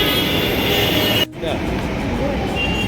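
A Mumbai Metro train rumbles steadily with a broad mechanical roar, briefly cut by a sharp dip before the running noise resumes.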